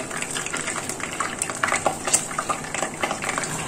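Nigella seeds sizzling in hot mustard oil left over from frying fish: a steady crackling hiss with scattered small pops, close and fairly loud, with no talking.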